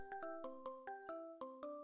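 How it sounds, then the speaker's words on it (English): A melodic phone ringtone plays a repeating pattern of bright synthetic tones in short pulses, loud and alone, interrupting a poetry reading. "Oh my god, it's my phone!"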